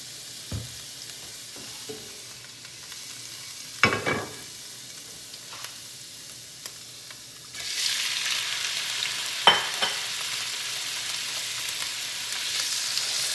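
Shrimp go into oil in a big pan for a low-carb shrimp alfredo, a few sharp clacks of the spatula over a quiet sizzle that jumps into a loud, steady frying hiss partway through.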